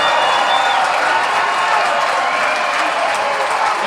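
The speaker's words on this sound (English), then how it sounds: "You can hear the crowd." A basketball arena crowd at a women's NCAA regional final roars with cheering and applause, a dense, loud, continuous wash of noise.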